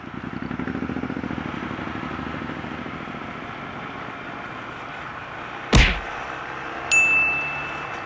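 Modified motorcycle engine roaring steadily up close with a buzzy, loud drone, then a sharp bang or clatter near the end followed by a brief high metallic ring.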